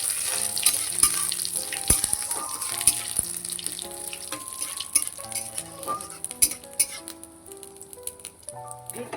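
Crushed garam masala with black pepper, cloves and cinnamon sizzles steadily in a hot pan, a continuous crackling hiss heard close up beneath background music.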